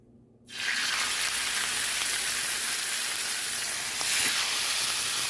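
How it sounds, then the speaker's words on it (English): Salmon steaks hit the hot pan on the stove and burst into a loud, dense, continuous sizzle after a brief silent moment, holding steady and swelling slightly toward the end. "let's go ahead and get these steaks on"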